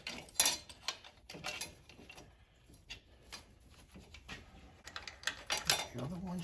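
A bolt fitted and tightened on a Subaru alternator, close and faint metallic clicks and ratcheting taps in irregular bursts, with soft speech in places.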